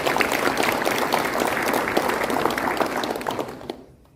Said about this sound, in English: you give yourself a round of applause for all your continued support